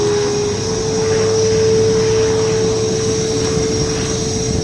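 A restored P-51 Mustang World War II fighter plane runs steadily at close range, its engine giving a loud, constant droning roar with no talk over it.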